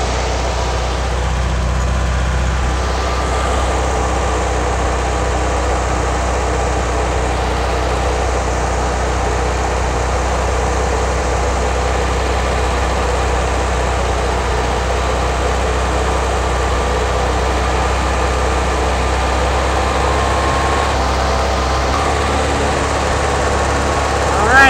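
A Porsche 356 engine fitted with Zenith carburetors idles steadily and loudly up close, a constant low rumble with a mechanical hum running evenly throughout.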